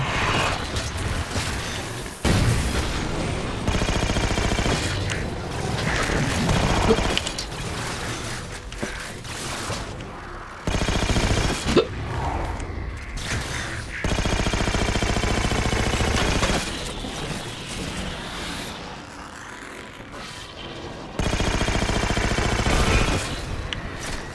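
Rapid bursts of shotgun and alien weapon fire in the Halo 4 video game, loud and mechanical with clanking reload sounds, repeating in clustered volleys with brief gaps throughout.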